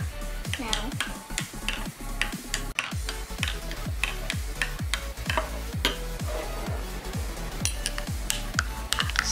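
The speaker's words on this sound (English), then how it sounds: "Now, stir it real good." A spoon stirs hot cocoa in a Shopkins mug, making quick, even clinks against the sides about twice a second, close and steady throughout.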